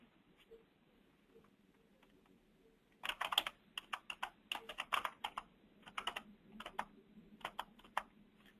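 Typing on a computer keyboard while entering a description into an online marketplace form, heard as quiet background for three seconds and then as bursts of crisp, rapid key clicks in uneven clusters, close and alone without talk.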